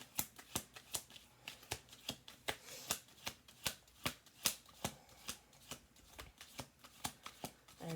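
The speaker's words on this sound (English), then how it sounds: "Let's do 2 more shuffles." Tarot cards being shuffled by hand: a quick, regular run of crisp riffling snaps, close and fairly quiet, alone without talk.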